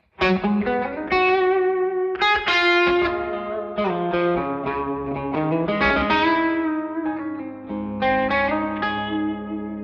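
Sustained electric guitar chords ring out through a Seymour Duncan Dark Sun reverb/delay pedal with decay at maximum, each note trailing into a long, spacey wash of echoes; no voices.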